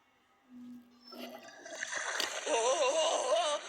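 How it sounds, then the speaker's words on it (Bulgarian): Toilet flushing in a Domestos cleaner commercial, a quiet tone then rising gush and swirling gurgle of water building to a loud rush over a few seconds. "Пуснаха водата."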